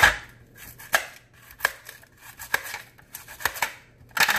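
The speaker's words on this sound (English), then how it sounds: "I'm going to cut up some onion." A knife chopping onion on a cutting board, a series of sharp, fairly close taps at an irregular steady pace, about eight cuts with quiet kitchen background between them.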